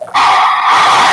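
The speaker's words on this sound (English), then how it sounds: "So we're looking around for my dog buddy here." A dog on a boat gives a loud, sustained, high-pitched yelp that starts abruptly and holds for about a second, close by.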